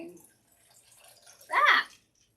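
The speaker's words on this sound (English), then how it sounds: "There's a big splash to begin with there." Prosecco splashes hard into a glass in a short, bright burst of fizzing liquid, loud and close, following a stretch of quiet with faint background murmur.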